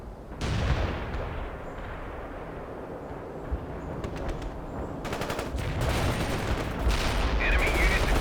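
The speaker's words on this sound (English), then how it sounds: "Heavy artillery barrage inbound." Rumbling artillery barrage and rattling gunfire in the real-time strategy game World in Conflict, fairly faint and steady, swelling toward the end with sharper crackling bursts.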